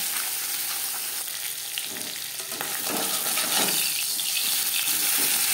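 Marinated bata fish fries in refined oil in a pan, a loud, continuous close-up sizzle and crackle with occasional bubbling bursts throughout.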